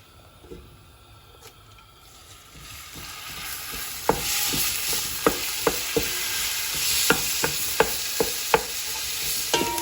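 Keema mince stirred and fried with cumin seeds in a pan: a quiet start swells into a loud, steady sizzle, punctuated by sharp, regular clacks of a spoon against the pan.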